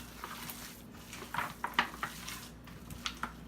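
Minced garlic is worked into a raw meatloaf mixture in a bowl, producing soft squelching and intermittent clinks and scrapes of a utensil against the dish, fairly quiet over a low background hum.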